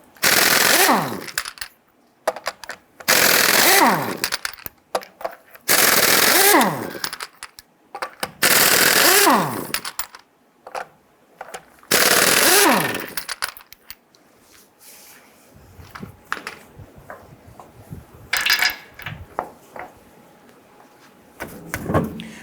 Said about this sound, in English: Using your 19mm socket, loosen and remove your lug nuts.